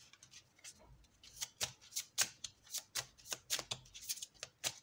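Stack of playing cards handled and shuffled up close, with a quick irregular run of crisp flicks and riffling snaps that grows busier, quiet and intimate.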